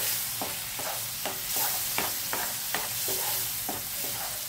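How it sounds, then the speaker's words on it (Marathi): A ground paste of roasted ginger, garlic, onion and coconut fries in oil in a kadhai, a steady sizzle broken by regular scraping strokes of a spoon stirring, close and fairly loud. "त्या कढईत तेल आहे, त्याच्यात मसाला टाकूया।"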